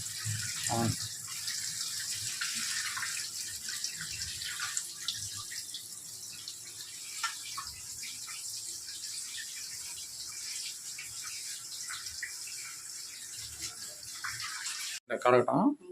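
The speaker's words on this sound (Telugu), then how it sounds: "ద్రాక్షలు కూడా కడిగేస్తాం" Water runs steadily from a tap as grapes are rinsed beneath it, with splashing and faint rattling, and a voice speaks briefly at the end.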